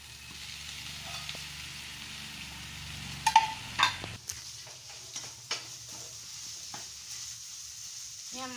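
Egg and Hakka noodles frying in a pan give a soft, steady sizzle, broken by a few clanks and scraping stirs partway through, fairly quiet with no talking.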